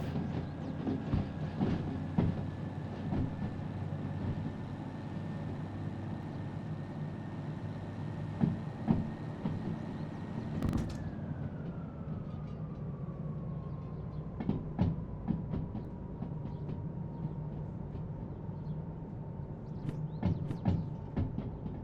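Train rolling along rails in the Derail Valley simulator, a steady low rumble with an electric hum that drops in pitch partway through, scattered clicks over the wheels, no talk.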